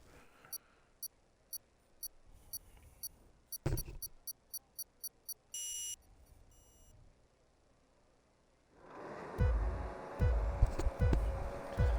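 A race start timer in a racing video game set at Silverstone ticks with regular sharp beeps, then a buzzer tone sounds, then a loud rush of engines as the race begins.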